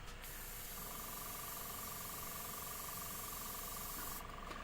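An airbrush sprays paint onto turned wood, giving a continuous, steady hiss at moderate level that starts and stops abruptly, with a faint tone running underneath and no talk.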